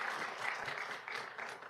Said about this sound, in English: we want to give you one more big round of applause.